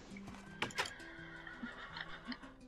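Horses in the Minecraft video game neigh and whinny in a rainbow horse stable, a few short calls over faint background game sounds, close and moderately loud.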